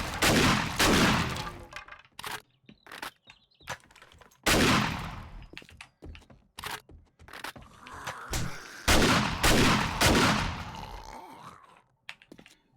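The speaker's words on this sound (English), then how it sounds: "Shoot them till they're dead and then shoot them again." Loud gunshots ring out in the zombie survival game 7 Days to Die, fired at zombies in irregular bursts and single shots with short quiet gaps between them.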